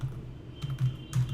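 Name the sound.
typing text on a computer keyboard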